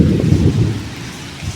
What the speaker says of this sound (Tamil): மழையே வந்துருச்சு.